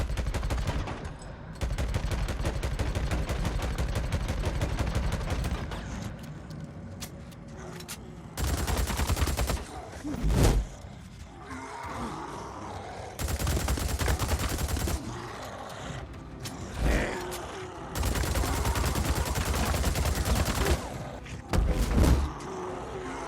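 Heavy gunfire in the video game Days Gone, with bursts of rapid automatic shots that repeatedly stop and start, loud and close, with short gaps between volleys.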